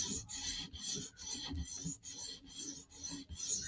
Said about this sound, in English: one more pass at 400 grit on both sides just to minimize the burr